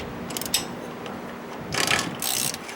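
A ratcheting spindle nut on a Bullnose Ford F-150 TTB front axle wheel bearing gives quick mechanical clicks, a few soft taps followed by a louder rasping burst, close and moderately quiet.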